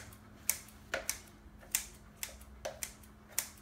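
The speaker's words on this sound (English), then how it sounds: "I'm getting a little crazy with my chopping here." Scissors snip through broccoli for a carb-free chicken salad, a series of about eight sharp, close clicks at an irregular rhythm over a quiet low hum, with no talking.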